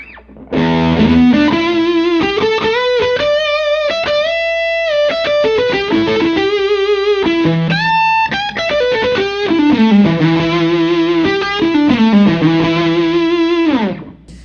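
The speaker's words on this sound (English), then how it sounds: "this Chase Tone preamp actually sounds really great and gets it to do a Marshall-like sort of tone" Electric guitar played through a Chase Tone preamp set for a creamy, Marshall-like overdrive, sustained distorted notes and sliding melodic lines ringing out continuously at high volume.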